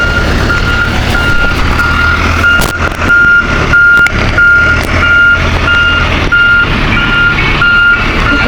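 A dump truck loaded with soil reverses at a road concreting site. Its backup alarm beeps loudly and evenly about every half second over a close, rumbling diesel engine, with occasional clanks.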